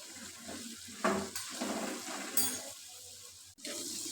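Half a cup of water is poured into tomatoes cooking with spices in a pot, a brief splash followed by hissing and bubbling as the liquid meets the hot pan, then a short break and renewed simmering.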